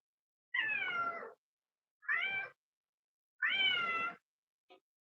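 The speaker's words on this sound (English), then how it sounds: "Kitty." A pet cat meows three times in drawn-out, wavering calls, close and clear against a silent background, followed by a brief faint chirp.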